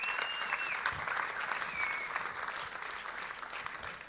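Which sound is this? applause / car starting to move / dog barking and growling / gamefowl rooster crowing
applause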